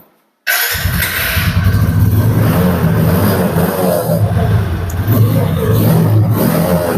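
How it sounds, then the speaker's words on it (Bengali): A TVS Apache 160cc black motorcycle engine kicks in abruptly after a moment of silence, then runs at a loud, steady, throaty idle close to the listener. "বাইকটি চলা দেখতেই পাচ্ছেন"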